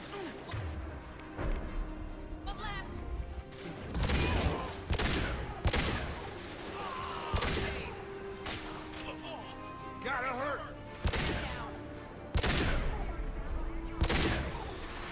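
Gunfire and rocket launcher blasts in the video game Mass Effect 2 come as repeated loud crashing bursts and explosions, some close together and some spaced a few seconds apart, over a busy game soundscape.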